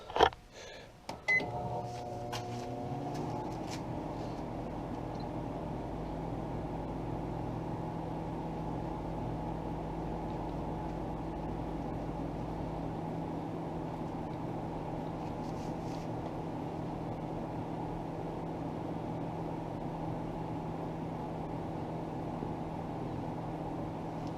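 A microwave oven hums steadily after a few clicks and beeps at the start, running alone at an even level.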